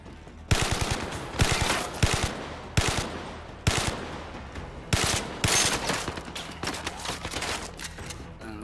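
A gun firing repeatedly in the Zero Caliber survival video game: loud, close bursts of rapid shots in separate volleys, each ringing off briefly before the next, with no talk over them.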